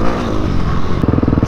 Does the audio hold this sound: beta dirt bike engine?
yes